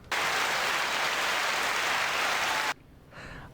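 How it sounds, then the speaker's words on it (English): A round of applause from an audience, a dense, steady clapping that holds loud for under three seconds, stops abruptly, then gives way to a faint brief murmur. "Round of applause."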